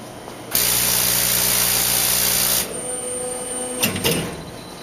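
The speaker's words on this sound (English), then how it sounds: "when you're turning on, the laser head automatically will move to the right top corner for homing" A laser engraver powers on and its head travels to the top right corner for homing, a steady mechanical whir with tonal motor lines lasting about two seconds, then a quieter hum with a few brief clicks and bumps.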